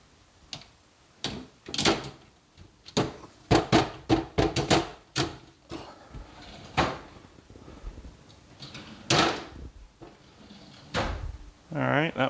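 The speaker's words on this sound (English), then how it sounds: "This is where we get to see if we put these drawer slides on correctly" Drawers on newly fitted drawer slides in an assembled kitchen pantry unit are pulled open and pushed shut repeatedly, giving a rapid series of sliding rumbles and hollow thunks, close and distinct, with brief talk at the end.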